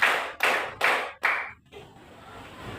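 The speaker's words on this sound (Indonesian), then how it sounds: "Tepuk satu, tepuk dua, tepuk tiga, tepuk satu dua," A classroom of students clapping in a counted rhythm, four loud, sharp group claps in even succession, followed by a quieter room tone.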